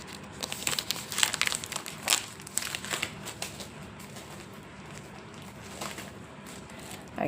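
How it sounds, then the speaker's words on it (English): Plastic wrapping on a honeycomb card kit crinkles and crackles as it is cut and pulled open, a run of close, uneven crumpling bursts that thin out toward the end, with no talking. "Just be careful not to cut the cards themselves when you're cutting off the plastic."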